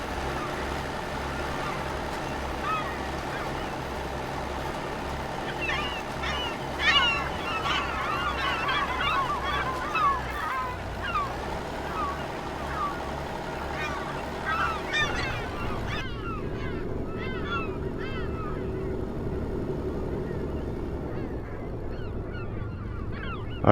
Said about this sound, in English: I hope those old seagulls aren't eating too much of my seed.